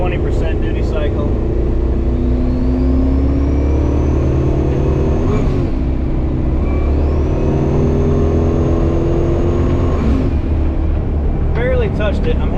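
A twin-turbo Dodge Dakota R/T with a GFB boost controller accelerates hard on a highway, its engine rising in two long full-throttle pulls with turbo whine, while the driver talks over it.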